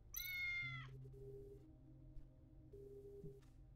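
A cat in the video game Tales of the Neon Sea gives one clear, high meow at the start, followed by low humming electronic game ambience and faint tones.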